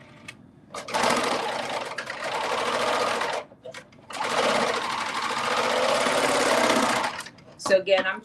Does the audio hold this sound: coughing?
no